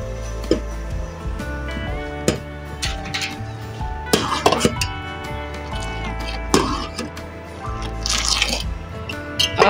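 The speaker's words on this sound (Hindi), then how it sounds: "पौवे में दूध लेके इस तरह आपने ऊपर से नीचे गिराना है ताकि इसकी झाग बने" A ladle lifts milk and pours it back down into a pot over heat to froth it, giving repeated splashing drips and metallic clinks against the pot in an uneven rhythm, close and fairly loud.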